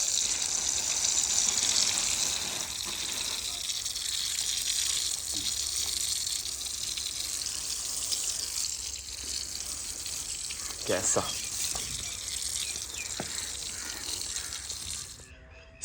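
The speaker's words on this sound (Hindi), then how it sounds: "सुकून घर में पानी का छिड़काव ऐसे किया जाता है।" Water is sprinkled onto the ground at a village home, splashing and gushing steadily, a continuous spraying wash with occasional splats and a brief spoken word.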